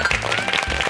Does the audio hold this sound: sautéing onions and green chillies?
no